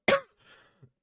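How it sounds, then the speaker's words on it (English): A single sharp, close cough from a person who is sick, followed by a softer rasping throat-clearing exhale and a brief small grunt, with silence around it. "Only got a cough because of, I'm sick."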